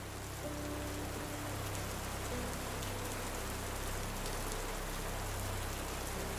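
Steady rain falls on a surface, a dense unbroken hiss of drops that stays even and close throughout.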